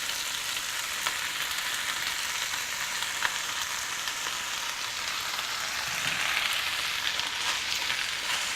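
Wombok and bean curd stir-frying in a Malaysian chai choy mixed-vegetable dish, a steady close sizzle with faint stirring scrapes throughout, no voices.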